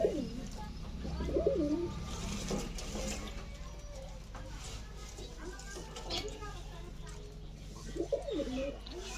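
Domestic local pigeons coo in soft, throaty bursts near the start and again near the end, over a steady background hum with occasional clicks.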